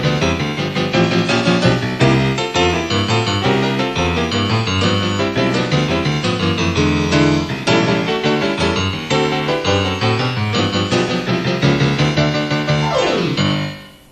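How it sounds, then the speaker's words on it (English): Fast, busy Kurzweil 250 synthesized piano playing a driving rock and roll line with pounding chords and bass notes, loud and continuous, stopping abruptly at the end. "modify the envelope to create a rock and roll piano sound"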